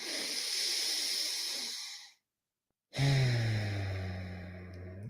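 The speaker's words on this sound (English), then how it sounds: "Let's take a couple of deep breaths to begin. In and out through the nose, just to feel that air come in and out" Two long, close breaths drawn in and pushed out through the nose, each a soft airy hiss lasting about two seconds, separated by a brief silence, the second with a slight rough, throaty edge.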